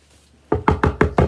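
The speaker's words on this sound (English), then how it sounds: "Knock on your way in." Five firm knocks on a door in quick, even succession, close and loud, following a brief quiet moment with no voices.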